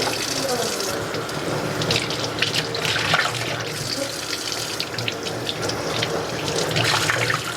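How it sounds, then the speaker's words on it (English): Tap water runs steadily into a sink while cyanotype-dyed fabric is rinsed, a continuous splashing flow with soft sloshing as the cloth moves, close and fairly loud. "You're just rinsing out all of that cyanotype from the fabric."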